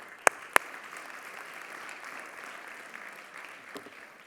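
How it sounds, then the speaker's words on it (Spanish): Applause from a church congregation, a dense patter of clapping with two sharp loud claps near the start. "Un aplauso."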